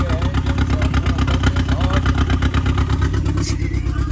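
2006 Audi A4 engine idling with an exhaust leak, a loud, close, rapid puttering pulse with an uneven, ticking rasp that holds steady throughout, with someone speaking over it briefly.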